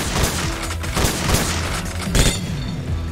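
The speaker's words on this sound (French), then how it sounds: "Et je remonte juste pour que je puisse lancer des grenades." Grenade blasts and gunfire in a first-person shooter game, heard as loud bursts of booming and crackling shots with a heavy blast near the end and no talking.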